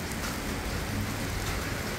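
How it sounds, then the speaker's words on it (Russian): Hail falling outdoors on a riverside embankment, a steady dense patter of ice pellets striking surfaces, continuous and fairly loud with no voices. "Вот, видите? Опа, вот лед. О, видите? Вот такой лед. Град идет."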